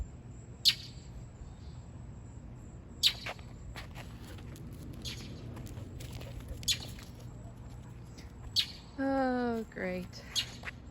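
A mean bird squawks outdoors during a walk, giving a harsh, rising burst of several short calls near the end, after scattered footsteps and a brief spoken remark.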